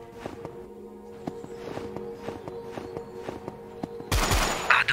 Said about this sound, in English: Are those gunshots I hear?